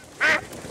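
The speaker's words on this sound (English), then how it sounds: "Oh, a duck?" One short, bright cartoon duck quack, clear and close, standing alone.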